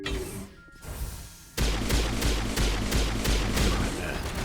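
Rapid gunfire from a pistol shooting at small turrets in the Mass Effect video game, a quiet lull broken by a steady run of loud, close shots with no voices.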